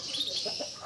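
A canary in a hanging cage gives a brief burst of close, high chirps lasting under a second.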